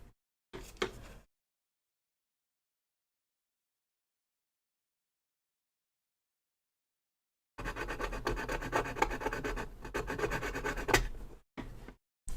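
Metal chisels scrape enamel paint off a vintage watercolor tin in short, close rasping strokes: one brief scratch, a long silence, then a sustained run of gritty scraping broken by small pauses.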